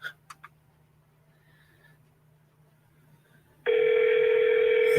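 A telephone rings on an incoming call, a loud steady electronic ring that starts suddenly near the end and continues, after some faint background noise and a low hum.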